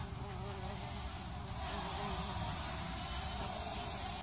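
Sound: bumblebees buzzing around a nest

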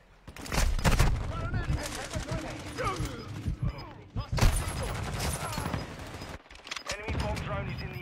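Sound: SMG gunfire in a video game

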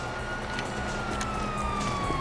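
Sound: police sirens in video game Grand Theft Auto V

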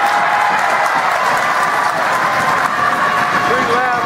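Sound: basketball crowd cheering and applauding after a shot

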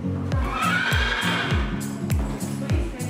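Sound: horse neighing at equestrian sports school

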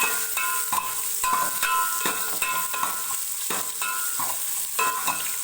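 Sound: tempering of curry leaves, chillies, garlic and onion frying

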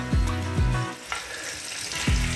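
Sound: honey, mustard and mandarin sizzling in a frying pan

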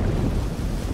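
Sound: boat moving through water in the video game Dave the Diver

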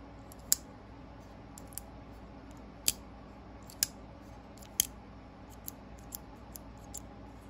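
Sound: Hogue Deka folding pocket knife Able lock clicking

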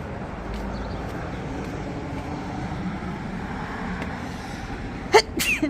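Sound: elderly woman sneezing

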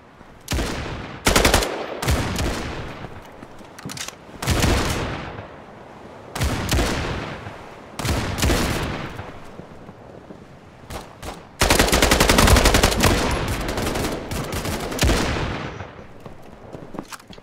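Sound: shotgun gunfire in video game Battalion 1944

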